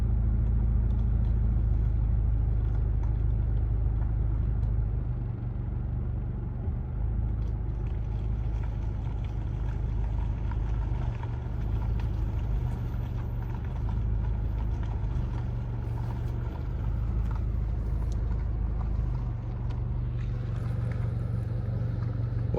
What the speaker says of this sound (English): So it looks like we're all driving on the shoulder up here.